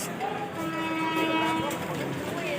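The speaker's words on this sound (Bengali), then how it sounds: "ট্রেন পিছনে ঢুকছে" The Rampurhat Express pulls into a station with a low rumble and sustained horn-like tones. Faint voices murmur beneath the rolling train noise.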